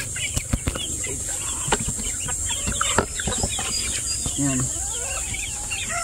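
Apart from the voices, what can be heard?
chickens clucking, roosters and a hen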